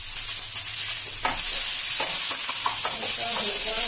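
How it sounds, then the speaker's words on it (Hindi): Garlic, green chili and onion fry in hot oil for veg chowmein, making a loud, continuous close sizzle with repeated scraping strokes of a stirring spoon. "अभी हमारा ऑयल गर्म हो चुका है और इसमें ऐड करेंगे लहसुन, हरा मिर्च और प्याज।"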